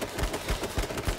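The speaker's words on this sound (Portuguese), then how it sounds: "Joga a rajada pra ver se acerta um tiro." A burst of gunfire in the survival shooter KOTK comes as four or five rapid, fairly faint shots in an even rhythm.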